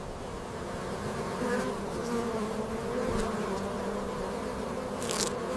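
Honey bees drone in a steady, dense buzz inside a hive, a continuous layered hum with a few brief louder passes of single bees close by.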